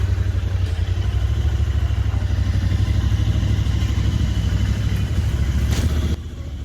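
Royal Enfield Interceptor 650 twin-cylinder motorcycle engine running up close, a steady deep throbbing rumble with a slight rise before cutting to a quieter idle at the end, no talk.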